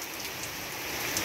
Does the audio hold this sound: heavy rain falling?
yes